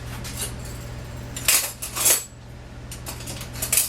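A metal spoon is pulled from a jumble of cutlery in a kitchen, giving close, bright jangling clinks in a few quick bursts with no talking.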